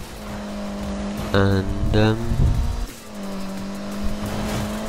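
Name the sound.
car drifting in the video game Need for Speed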